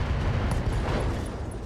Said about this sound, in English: AMS ammo explosion there